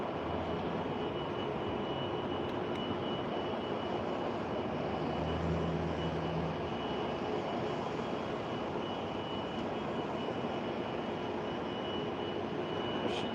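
A Japan Airlines Airbus A350-1000 taking off on the south side, bound for Tokyo Haneda: a steady, broad engine roar heard from a distance, fairly faint, with a low tonal hum partway through and no talk.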